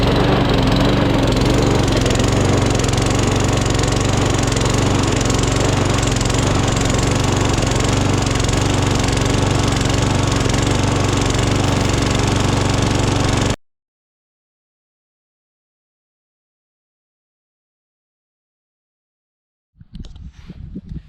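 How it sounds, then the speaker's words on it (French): A Husqvarna riding lawn mower runs with a steady, loud engine drone for about thirteen seconds, then cuts to silence before a brief burst of noise returns near the end. "je vais vous présenter un tracteur tondeuse de la marque Husqvarna"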